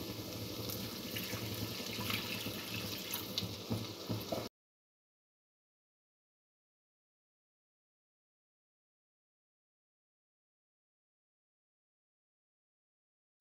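Water pours and splashes into a cooking pot while kebab masala karahi is being made, a steady close rush for about four seconds, then the sound cuts to silence.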